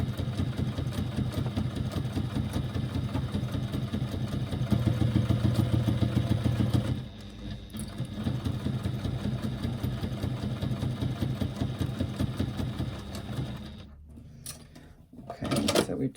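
A sewing machine stitches a line along a bag strap, running as a fast, steady mechanical rumble that speeds up briefly and then pauses and restarts before stopping near the end.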